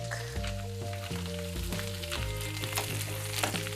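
Brussels sprouts and garlic frying in oil in a pan, a bright continuous sizzle with crackles, layered over a steady low hum from a kitchen appliance.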